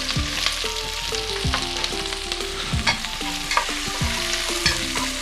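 Onions and green chillies sautéing in hot oil for a mutton liver gravy, a steady close sizzle broken by repeated scraping stirs of a ladle against the pan, no voices.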